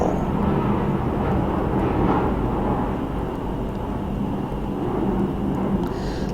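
A loud, broad low roar of an airplane passing overhead fills the whole stretch, steady and rumbling with no voices over it.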